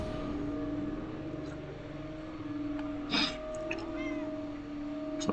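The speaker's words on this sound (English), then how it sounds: "my cat is standing on my head. Demanding lunch, but he's too early" A hungry cat meows insistently for food indoors, a few close, drawn-out cries over a steady background hum, with a louder call midway.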